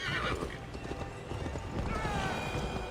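Game horse from Assassin's Creed Valhalla: steady clip-clop hooves at a gallop and a neigh, moderately loud within a busy game mix, with talk faint in the background.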